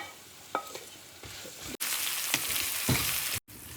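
Ginger, garlic, onion and curry leaves sautéing in a pan for a rustic moose meat dish, a steady sizzle broken by sharp scrapes and stirs of a spoon, close up and without speech.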